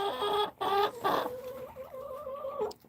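Light Brahma and Jersey Giant hens at a nesting box cluck close by, with a few sharp squawks at first that settle into a low, warbling, drawn-out cluck.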